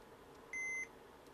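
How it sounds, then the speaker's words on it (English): A continuity tester for PCB tracks with its probes shorted together gives one short, steady electronic beep, clear and alone over faint background hiss. "Now if I keep these shorted together, you'll notice it's a continuous beep with a bit of a gap in the middle."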